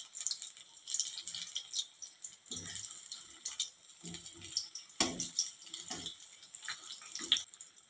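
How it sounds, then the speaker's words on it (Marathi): Chilli fritters (mirchi bhaji) fry in oil over low to medium gas, a soft steady sizzle with scattered crackles and a few dull knocks, close and fairly quiet. "मिरचीवरचे तेलाचे बुडबुडे कमी झाले की मगच आपल्याला मिरची पलटून घ्यायची आहे."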